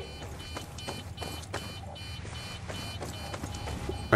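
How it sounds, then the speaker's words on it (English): Quiet, regular electronic beeps in Far Cry 6 repeat about every third of a second over a low rumbling hum, steady and moderately faint throughout. "I hear a beeping noise."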